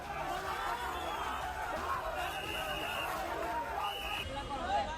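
An angry mob fills a street in Bangladesh with a dense, continuous roar of shouting and yelling voices, steady and close throughout, with occasional louder cries rising out of the din.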